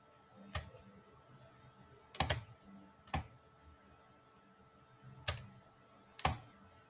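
A computer keyboard is tapped in a quiet room: five short, sparse bursts of soft key clicks separated by pauses, faint and with no talking.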